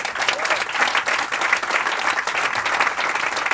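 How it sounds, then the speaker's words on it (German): A comedy show audience gives comedian Moritz Neumeier a big round of applause, dense sustained clapping filling the room with no voice over it. "Bitte, einen Riesenapplaus für Moritz Neumeier!"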